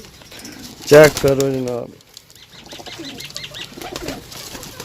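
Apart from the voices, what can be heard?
pigeons cooing and flapping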